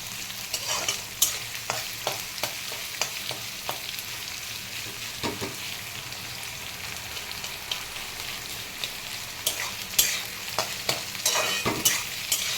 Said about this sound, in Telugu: కొంచెం వేగాలి ఫ్రెండ్స్, లేకపోతే పచ్చి పచ్చిగా ఉంటాయి కదా, కొంచెం వేగితే బాగుంటుంది